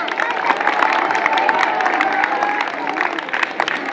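Dense crowd noise with cheering, shouting and scattered clapping for Sir Shahriyar at a school Sindhi Culture Day celebration, with children's voices loud and continuous throughout.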